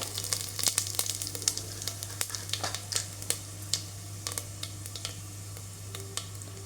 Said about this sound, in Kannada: ಲವಂಗ, ಸ್ವಲ್ಪ ಕಸೂರಿ ಮೇಥಿ. ಸೊ ಇದೆಲ್ಲ ಫ್ರೈ ಆಗಬೇಕೀಗ.